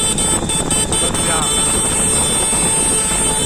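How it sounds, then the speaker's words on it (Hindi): A vehicle horn honks in a steady, sustained blare over loud, rough road and engine noise, with people talking close by. "हॉर्न बजा, हॉर्न बजा।"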